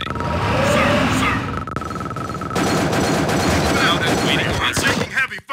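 Dense battle gunfire in a real-time strategy game, continuous overlapping shots and explosions with a rumbling din, while voiced unit responses are heard over the fighting.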